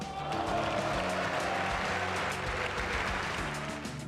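Home crowd applauding at a WTA Tournament of Champions tennis match in Sofia, a broad sustained clapping that swells and then tapers off, with music or commentary faintly underneath.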